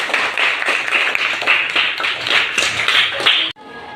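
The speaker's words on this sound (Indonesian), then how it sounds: "Tepuk tangan buat kita semua" A class of students clapping hands together in a classroom, a dense run of quick overlapping claps lasting several seconds before stopping abruptly.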